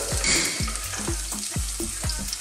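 Onions and finely chopped garlic frying in oil, a dense continuous sizzle broken by a regular series of low thumping stirs, about one every half second, close and fairly loud with no voices.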